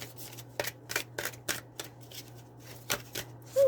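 A Wisdom of the Oracle card deck being shuffled by hand, close and soft, with a series of quick riffling bursts in an uneven rhythm over a faint steady hum.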